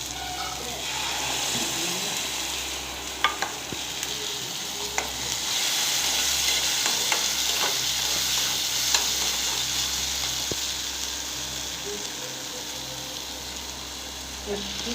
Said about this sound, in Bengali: এখানে জিরে গোলকির পেস্ট আছে, সেটা আমি ভালো করে ভেজে নিচ্ছি।